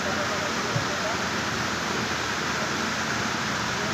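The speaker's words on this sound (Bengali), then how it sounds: "দেখতে পাচ্ছেন অনেক বৃষ্টি হচ্ছে" Heavy rain pouring onto flooded streets, heard from a footbridge as a loud, dense, continuous hiss with no breaks.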